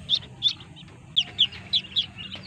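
High, thin peeping chirps from day-old chicks, about seven short calls in uneven bursts, close by over a faint low background murmur.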